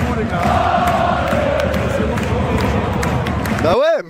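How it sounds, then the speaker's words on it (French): Brest football supporters chant in a stadium, a loud, dense and continuous crowd roar with sustained voices that cuts off abruptly near the end. "Il est surpris que les supporters brestois chantent encore à 3-0."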